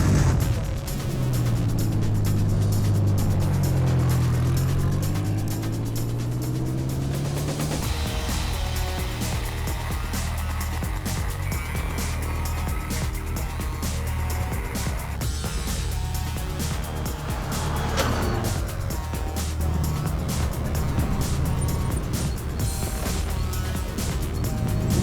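Race car engines start up on a track and settle into a loud, rough idle, with low rumbling pitch that rises and falls through a steady revving drone lasting the whole stretch.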